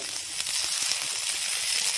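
Banana stem fries in a pan as its water cooks off, giving a soft, steady, continuous hiss and sizzle with faint crackles and no voices.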